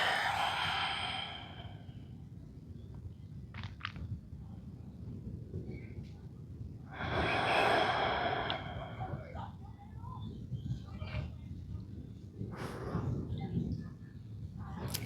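Slow breaths drawn in and released while lying in a supine yoga twist, several long sighing exhales spaced across the stretch, close and soft with low room noise beneath.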